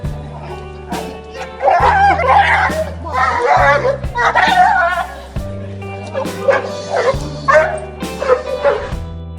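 Excited dog barks and yips in quick bursts, with whimpers between, while children's voices chatter and squeal nearby, at a reunion with its owner after years apart.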